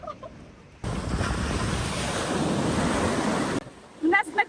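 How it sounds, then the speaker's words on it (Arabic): Sea waves wash onto a beach in Vietnam lined with palm trees and apartment blocks, a loud, steady roar mixed with wind buffeting the microphone, which cuts off abruptly and leaves only a quieter background. "البحر هنا"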